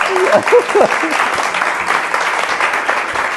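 A workshop audience applauds after a coaching exercise, with dense, steady clapping throughout and a few brief voices rising over it near the start.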